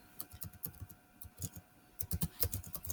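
Keystrokes on a computer keyboard while instructions are typed for a Scratch game project, a quick irregular run of close, light clicks with short pauses, alone without speech.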